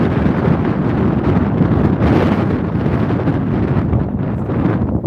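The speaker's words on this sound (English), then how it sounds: "I'm walking next to us, but it's quite windy" Strong wind buffets the microphone in a steady, loud roar with rumbling low gusts throughout, no voices audible.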